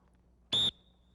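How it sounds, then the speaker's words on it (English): One short, sharp dog training whistle blast, loud and shrill, against a quiet background, with a faint tonal trace lingering briefly afterward. "One single blast on the whistle will mean sit."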